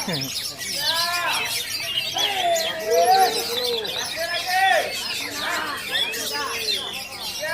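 Oriental magpie-robins sing in a bird contest, with loud, varied whistled phrases and rapid chirps overlapping throughout amid background chatter and calls of other birds.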